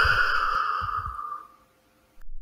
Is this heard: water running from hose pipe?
no